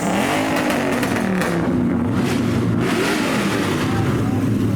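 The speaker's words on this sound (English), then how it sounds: "He stopped to rev next to the Mustang to show what a proper V8 sounds." A V8 car revs loudly at a car meet, its engine roaring continuously near the listener against crowd noise.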